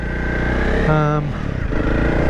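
Honda CRF300L Rally motorcycle riding along the road near Beachy Head, a steady close engine drone with brief rising pitch, heard with wind noise and a rider talking over it.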